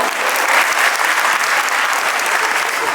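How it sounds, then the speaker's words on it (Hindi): A crowd applauds steadily, dense clapping at an even level from start to finish. "तो तालियां तो बजा दो एक बार।"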